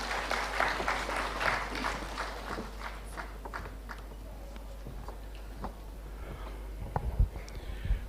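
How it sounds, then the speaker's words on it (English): An audience at a sustainability education conference plenary session applauds to welcome the session chair, with dense clapping that starts strong and thins out over several seconds, ending in a few scattered knocks. "Please have a huge round of applause for his welcome."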